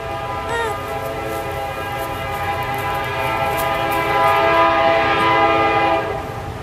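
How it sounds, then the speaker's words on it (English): Train horn blaring in long sustained harmonic tones as a train passes nearby, steady and loud throughout with a rumbling undertone and a brief faint voice early on. "Oh, there's that train again."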